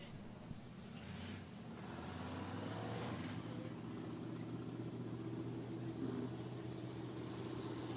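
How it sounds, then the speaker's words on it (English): Dirt track race cars idle and rumble together at Cottage Grove Speedway in Oregon, a steady low engine drone with a slight rise in revving as the four-car field lines up for a heat race. "4 cars, 9 laps the distance for heat race number 2"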